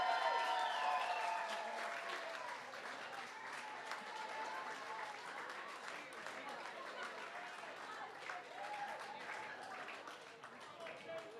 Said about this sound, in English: Ladies and gentlemen, give it up for Team Seattle